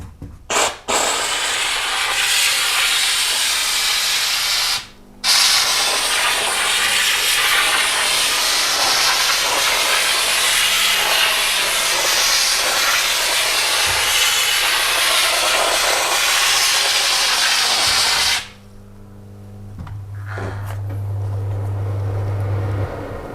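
A Karcher SC3 Anniversary steam cleaner hisses steam loudly and close, one long continuous rush broken by two brief cuts near the start, then it stops and leaves a low hum.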